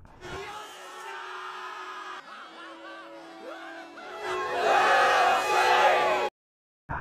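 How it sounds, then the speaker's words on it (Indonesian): An anime crowd of defense force members cheers and whoops happily together, a loud massed shouting that swells toward the end before cutting off abruptly. "Semua orang lalu berteriak senang mengetahui Kafka telah resmi menjadi anggota mereka."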